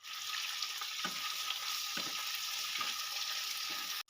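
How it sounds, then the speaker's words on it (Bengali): Prawns hit a pan of browned chopped onions and sizzle loudly in hot oil, a dense continuous frying hiss with a few soft stirring knocks. "ভাজা ভাজা হয়ে গেছে এবার আমি দিয়ে দেবো এখানে চিংড়ি মাছ"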